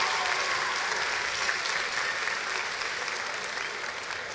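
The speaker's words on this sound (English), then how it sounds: "Let's give her a round of applause for her service." A large audience at a university spring commencement ceremony keeps up steady, dense applause, broad and even throughout without a break.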